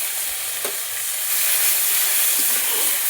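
Onion paste frying in a pan with oil, cinnamon, cardamom, cloves and two bay leaves, giving a steady close sizzle and hiss with light stirring scrapes throughout, no voices.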